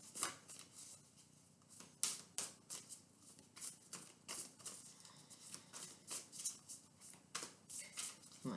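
Oracle cards from a Whispers of Love deck being shuffled by hand, giving a quiet, steady run of soft riffling and flicking bursts with no talk.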